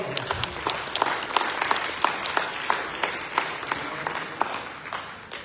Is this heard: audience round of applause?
yes